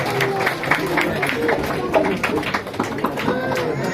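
A crowd clapping at the opening ceremony of a tea shop, a steady patter of many hands close by, mixed with chatter and a speaker's voice throughout.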